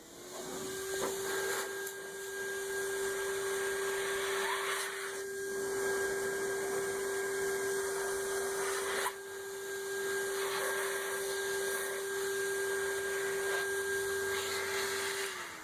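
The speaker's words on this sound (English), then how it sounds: "hit it with some compressed air" Compressed air blowing steadily across a restored car headlight during detailing, a sustained close hiss with a faint whining tone and a few brief dips in flow.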